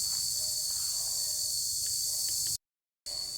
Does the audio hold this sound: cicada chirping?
yes